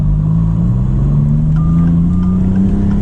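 Engine of a 2024 Maserati MC20 in manual sport mode, a loud steady drone whose pitch rises gradually as the car pulls through a gear, heard from inside the cabin.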